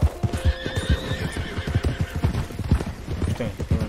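Horse hooves clip-clop in a quick, steady rhythm in Red Dead Redemption 2, with a horse neighing and whinnying close by over the footfalls; a voice speaks faintly underneath.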